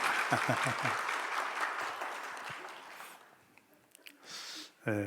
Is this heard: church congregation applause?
yes